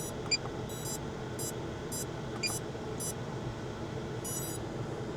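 Short electronic buzzer beeps from a Pavo Femto drone wired up with a GPS module, sounding in repeated brief pulses over a steady hum of background noise.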